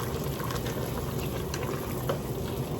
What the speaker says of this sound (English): We really want them to continue to boil, but we don't want it to be quite so rapid.